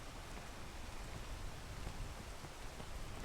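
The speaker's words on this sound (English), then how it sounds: "Then it starts raining" Steady rain falls in the video game PEAK, a dense even hiss of drops with no breaks, moderately loud and alone.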